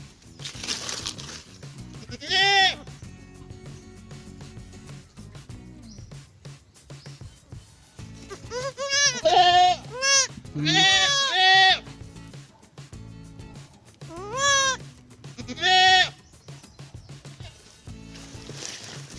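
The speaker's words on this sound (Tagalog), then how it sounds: "Ayan mga kaparmer ang ating bagong kambing" A new goat bleats on a farm, several loud wavering calls in clusters, some repeated rapidly, against a low steady background hum.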